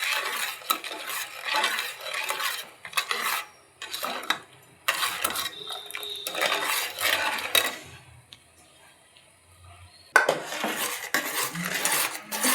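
A spoon scrapes around a pan of ghee and sugar for Mysore pak in close, bursts of stirring separated by brief pauses, with clinks of metal on metal.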